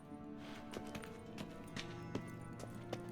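Hooves of the horse Kelpie clip-clop at a gallop in The Witcher 3: Wild Hunt, a fairly quiet rhythmic series of thuds over a low droning game background.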